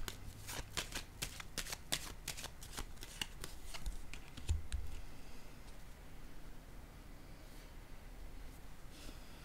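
Tarot-style cards are shuffled and laid out on a table, a quick run of crisp riffling snaps at first, then softer sliding and placing sounds, close and quiet.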